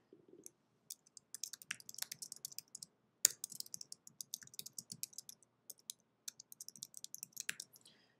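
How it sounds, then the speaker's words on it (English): Someone types on a computer keyboard in a quiet room, producing faint, irregular clusters of crisp key clicks with brief pauses between bursts. "I'm just going to type one more thing on here."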